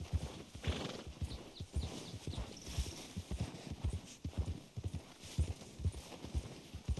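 Rapid, rhythmic hoofbeats of a galloping horse in Red Dead Redemption 2, steady and close, with a brief whinny partway through.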